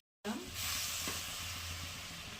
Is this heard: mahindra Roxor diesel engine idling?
no